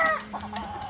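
Chickens at a gamefowl farm in Taytay, Rizal, clucking in short, close bursts with a brief crow-like call at the start, no talking.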